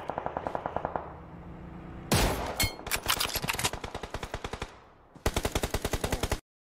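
Rapid automatic gunfire bursts in Battlegrounds Mobile India, loud and close, with dense repeated shots in several strings separated by brief gaps, one burst ringing with bright metallic reverberation.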